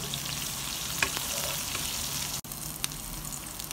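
Pork being stir-fried in a wok with Sichuan peppercorns, a continuous close sizzle with scattered scraping and clicking of the spatula, one brief sharp knock partway through, no voices.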